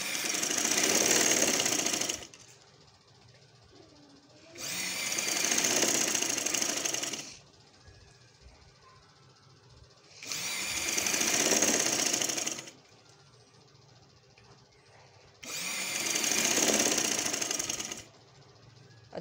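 A sewing machine stitches dori piping onto a kameez in four loud, close bursts of rapid whirring, each lasting a couple of seconds with quiet pauses between them.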